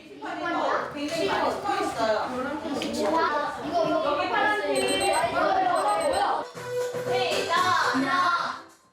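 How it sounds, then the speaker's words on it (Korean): An alarm rings out in a school classroom during a math lesson, its steady tones sounding over the continuous chatter and voices of children throughout. "수업 도중에 알람이 울리자 이번엔 일제히 일어나 스트레칭을 한다."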